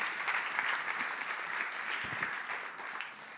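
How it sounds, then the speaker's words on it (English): An audience at a tech conference applauds steadily, a dense, even wash of clapping throughout with no voices standing out. "Yeah, you can cheer for that."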